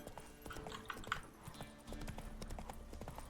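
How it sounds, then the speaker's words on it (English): Horse hooves clip-clop at a steady trot in the video game The Witcher 3, with a brief whinny, heard close and fairly quiet beneath ambient game sound. "Whoa there, Roach"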